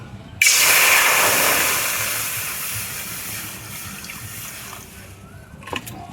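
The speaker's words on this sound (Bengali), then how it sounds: "কড়াইতে আবার গরম জল বসিয়ে দেবো।" Water poured into a wok gushes suddenly and loudly, then softens into a lingering hiss and bubble as the stream tapers off, with a small clink near the end.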